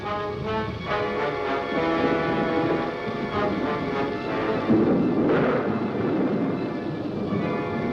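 A thunderstorm with lightning and rain: a dense, loud rumble of rain and rolling thunder runs throughout, swelling into a heavier crash near the middle, with no voices.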